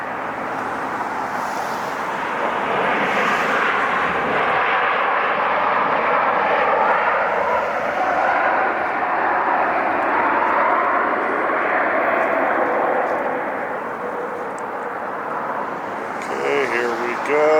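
A Lufthansa Boeing 747 landing at LAX, a loud sustained engine roar that holds steady for most of the time and eases slightly near the end, with faint voices in the background.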